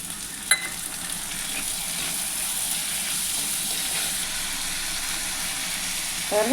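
Chopped small onions and tomato fry in hot oil in a pan for athalakkai kuzhambu, giving a steady, close, even sizzle that runs throughout, with a couple of brief clicks.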